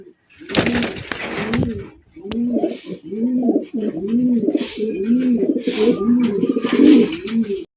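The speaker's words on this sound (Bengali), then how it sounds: "দেখতে পাচ্ছেন সাদা ধবধবা বোম্বাই কবুতর। ওরে ভাই রে ভাই, ডাক দেখেন" A pure white Bombay pigeon coos close by in a long series of rhythmic, bubbling calls. A short rustle and a voice briefly come before the cooing.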